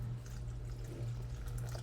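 Half a cup of cold water poured onto powdered gelatin for homemade marshmallows, a soft, quiet trickle over a steady low hum, with no talking.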